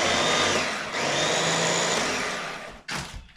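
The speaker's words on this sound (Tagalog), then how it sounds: "Now we're done for the chopper of all these ingredients." An electric food chopper grinds ingredients for Filipino spring rolls with a loud, close whirring buzz. The whir dips briefly, runs on and cuts out, then gives one short final burst.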